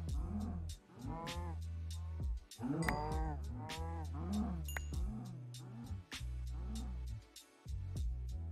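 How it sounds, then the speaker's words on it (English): Cows in Minecraft, modded Project Ozone 3, moo over and over in close, overlapping calls with steady game background sound and no talking. "Come on, cows."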